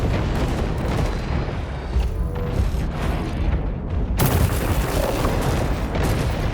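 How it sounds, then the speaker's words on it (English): Missiles fire and explode in War Robots Frontiers, a dense, loud, continuous barrage of booms and blasts with no breaks, growing harsher toward the end. "everyone is just firing missiles in here"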